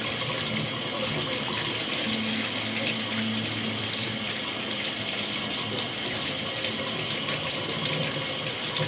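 Tap water pours steadily and loudly into a filling bathtub, a continuous close gushing splash that stays even throughout with no break.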